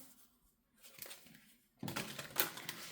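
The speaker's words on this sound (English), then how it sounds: "I'm live shuffling everything today." A deck of tarot cards being shuffled by hand: quiet, scattered clicks at first, then a louder run of rapid papery riffling and snapping up close, with no voice over it.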